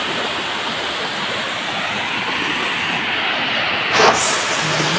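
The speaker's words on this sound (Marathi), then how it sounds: "इथे खूप मोठं वॉटरफॉल आहे." A large waterfall pours at Hardakhale Dam, a loud, continuous broadband roar of rushing water up close, with a brief brighter splash or hiss toward the end and no talking.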